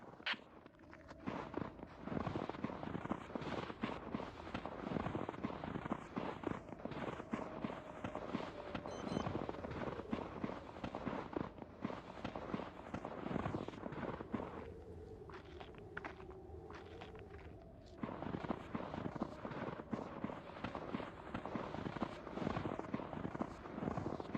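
A campfire crackles in the VR survival game Survivorman VR: The Descent, with faint, irregular pops and snaps over a continuous soft roar that briefly dips midway.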